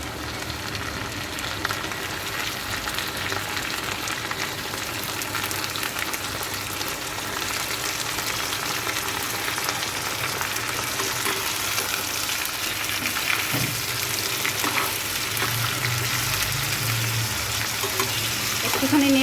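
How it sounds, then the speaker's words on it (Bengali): Marinated chicken pieces going into fried onions in a pan, a continuous close hiss of sizzling oil with occasional stirring knocks, steady and fairly loud throughout. "পেঁয়াজগুলো ভাজা হয়ে গিয়েছে, আমি এবার চিকেনগুলো আস্তে আস্তে করে দিয়ে দিচ্ছি।"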